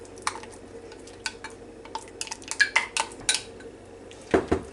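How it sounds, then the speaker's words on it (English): Ingredients for a corn casserole, including melted butter and a cup of sour cream, are stirred together in a bowl, giving a run of close, irregular clinks and scrapes of a utensil against the dish, with a sharper cluster near the end. "let's get everything mixed up real good"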